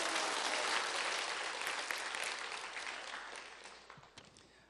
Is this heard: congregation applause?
yes